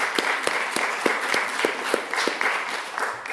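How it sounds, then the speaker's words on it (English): A church congregation breaks into a round of applause for its welcome team, dense overlapping clapping that holds steady throughout, with a few louder individual claps standing out. "Once a month, yeah, big round of applause"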